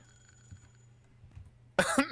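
A single abrupt cough rings out close to the microphone after a few quiet seconds of low room hum, the burst breaking into a short rough tail.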